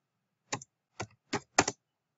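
Typing on a computer keyboard, entering an object name into an R script: four short, close bursts of key clicks with gaps between them and no talk.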